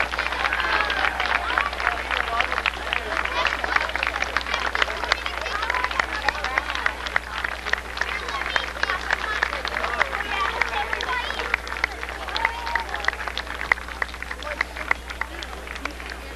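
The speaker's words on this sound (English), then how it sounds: "give it a very wide, warm applause for the flag" An audience at a 1991 Brantford city flag-raising ceremony claps steadily for the new flag, a dense crowd applause with scattered murmuring under a low steady hum, sustained throughout.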